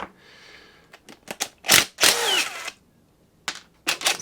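Power tool spinning off 10 mm bolts on the clutch of a Masport Olympic mower, several short loud whirring bursts of varying length separated by brief pauses, close to the microphone with no talk.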